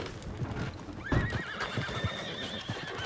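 Horses in the Red Dead Redemption 2 video game: a loud, close neigh with a wavering whinny rises over a busy bed of hoof clops and shuffling, with no talking.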